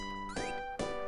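Two short meows from a cat in a video game sound over a steady synthetic tone, one after the other in quick succession.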